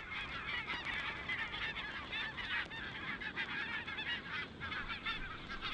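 A flock of barnacle geese honks continuously, a dense overlapping chorus of nasal calls at moderate distance with no other sounds.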